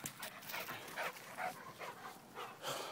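A dog whimpers and yips during play-biting, a string of short, high, breathy whines in quick uneven succession, close and fairly quiet.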